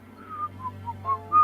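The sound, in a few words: person whistling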